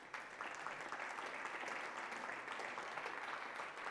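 A forum audience in Madrid applauds a panel, steady, even clapping from many hands that fills the room for the full four seconds.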